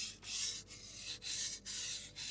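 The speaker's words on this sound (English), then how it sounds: "But for now, I'm simply sharpening" A blunt kitchen knife is drawn across a whetstone in a quiet room, making close, soft, rhythmic rasping strokes with short pauses between them.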